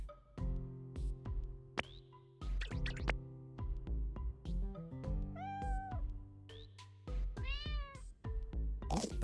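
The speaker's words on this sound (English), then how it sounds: "Where do I hear cat noises, but I don't see a cat?" Repeated cat meows from the video game Lost & Found Co, several distinct calls rising and falling over steady game music, fairly loud with no talking.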